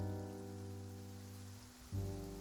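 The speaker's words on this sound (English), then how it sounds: "It's raining." Rain falls steadily in the Genshin Impact video game, in Fontaine, a soft patter under a sustained tonal music drone that briefly dips and swells, with no voices.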